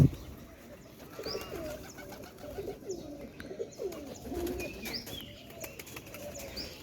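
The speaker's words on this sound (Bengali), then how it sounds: "কবুতর" Pigeons coo softly in an early-morning rural setting among rice fields, with brief wing flaps and scattered chirps, moderately close, with no talking.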